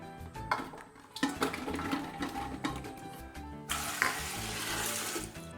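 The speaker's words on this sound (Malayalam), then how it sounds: "സാമ്പാർ പൊടി ഇവിടെ ഇളക്കാം." Sambar powder is stirred into a vegetable curry of roughly chopped vegetables, giving a steady sizzle and scraping that grows louder and brighter near the end, with no talking.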